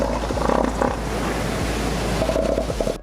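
Giant elephant seals on a beach give loud, rough, roaring calls that repeat in bursts, with steady surf noise running underneath.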